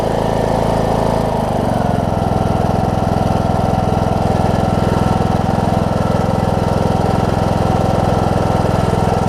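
A low-hour John Deere D105 riding mower, an estate find, idles while warming up after starting, its steady engine rumble loud and close with a settling change near the start, then even and constant throughout.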